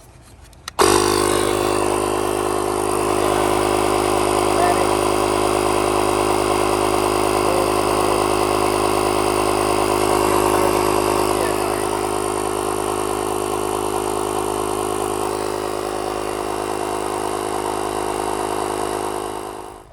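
A Toyota Corolla engine running after the power button is pressed, a steady mid-pitched hum with faint whine that starts abruptly in the first second and holds evenly and fairly loud until it cuts off at the end.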